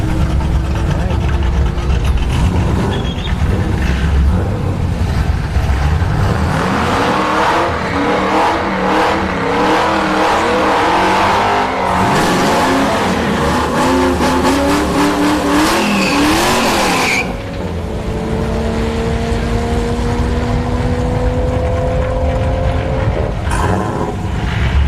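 Drag racing at a speedway, with a Pontiac Firebird and a Toyota Supra A90 among the cars: loud, rising engine revs and roaring launches with tire squeal, and a second car's tone joining midway, a voice briefly audible under the noise.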